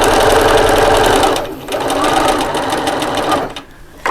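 A sewing machine stitches a purse seam in a loud, rapid, steady run of needle strokes, slowing briefly where the needle stops to pivot, then stitching on before stopping near the end.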